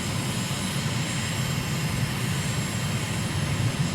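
A slow aircraft's engine in Microsoft Flight Simulator drones steadily over Abu Dhabi, a dense, even roar of engine and airflow holding constant without pauses.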